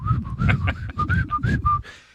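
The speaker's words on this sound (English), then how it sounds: "you snap your fingers and you just start whistling" A person whistles a short, lilting tune in a series of bright, clear notes, with some low background rumble underneath.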